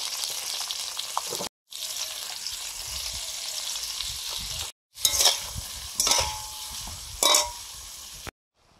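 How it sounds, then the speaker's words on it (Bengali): Brinjal frying in a pan with salt and turmeric, a close, lively sizzle with bursts of crackling and stirring scrapes, broken by a few brief silent gaps. "এবারে বেগুনগুলো ভেজে নিচ্ছি। লবণ আর একটু হলুদ দিয়ে ভেজে নেব।"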